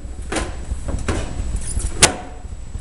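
An acrylic bird cage panel slides into place, giving a few short scraping and rubbing sounds and a sharp click near the end, close and fairly loud.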